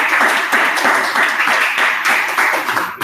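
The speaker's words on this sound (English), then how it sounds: "let's give her another round of applause" Dense applause from an audience at an information session in Tallahassee fills the room, a steady crackle of many hands clapping close by with no pauses for the full length.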